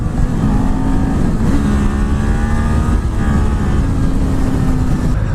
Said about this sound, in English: Let's rev it out.